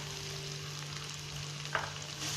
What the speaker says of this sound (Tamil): வெங்காயம் ஒரு நிமிஷம் வதங்கட்டும்.